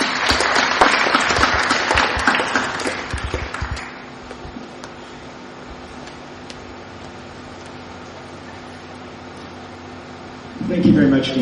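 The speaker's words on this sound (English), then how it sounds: "Let us give him a round of applause." An audience at a human rights talk on enforced disappearances in North Eastern Kenya gives a loud, dense round of applause for the arriving speaker; the clapping fades after a few seconds into quiet room hum, then brief talk resumes at the end.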